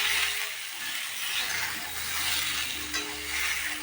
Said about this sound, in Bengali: কুমড়োর সঙ্গে ঝিঁয়ে ভালো করে ভাজাভাজি করে নেব